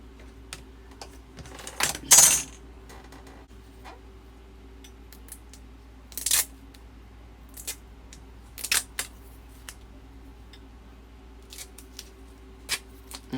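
Metal ruler pressing a washer onto a fabric wallet made from fat quarters, giving a few separate sharp metallic clicks and scrapes spaced out over a quiet room, close.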